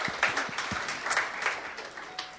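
Church congregation applauding during a sermon: a steady, moderately loud wash of many hands clapping together, with a few heavier low thumps early on, and no voices over it.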